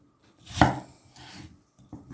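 A knife dices potatoes into cubes on a board, one sharp chop followed by a few softer scraping cuts. No one talks.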